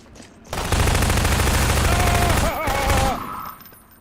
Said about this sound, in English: Loud gun.